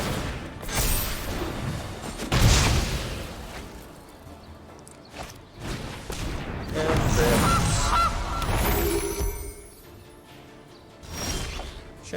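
A goose honking in a digital card game, loud repeated cartoonish honks and squawks mixed with creaky mechanical effects and whooshes, with no talking over them.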